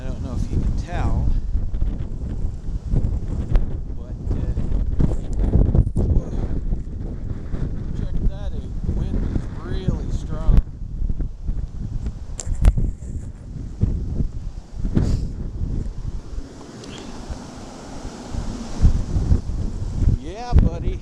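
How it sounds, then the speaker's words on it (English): Strong wind roars steadily through a snowstorm in Nova Scotia, gusting and buffeting the microphone outdoors, with a person talking over it at times. "the wind really picked up"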